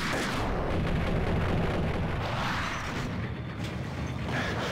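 Grenade explosions in Max Payne make a dense, loud roar of blasts and rumbling that carries through the whole short stretch without talking.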